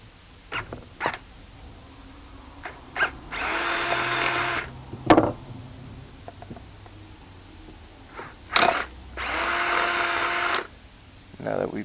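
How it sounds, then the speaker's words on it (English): A power drill bores holes through PVC tubing in two whirring bursts of about two seconds each, close and loud, with clicks and handling noises between them. "Now that we've drilled these holes"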